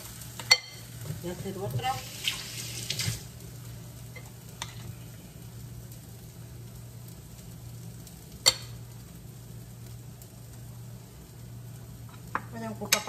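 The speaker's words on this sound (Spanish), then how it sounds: "En un sartén puse un poquito de aceite y le estoy poniendo a cocinar aquí" Potato patties with cheese sizzle in a little oil in a frying pan, a soft steady crackle with occasional clicks and utensil taps, while someone speaks Spanish briefly.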